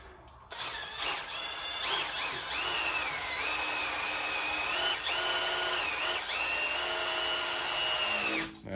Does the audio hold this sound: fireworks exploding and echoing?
no